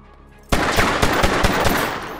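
Rapid bursts of gunfire from the 2006 action film Smokin' Aces, erupting suddenly after near silence into a loud, dense volley of repeated shots.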